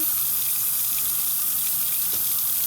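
Tap water runs steadily into a cooking pan holding rinsed raw chicken, a continuous close splashing hiss with no talking over it.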